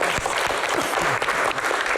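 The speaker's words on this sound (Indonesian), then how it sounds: "Tepuk tangan sekali lagi untuk Pak Aswar" Audience applause for Minister Aswar Anas at an evening televised Q&A event, a dense, steady wash of clapping from a crowd that fills the whole stretch without a break.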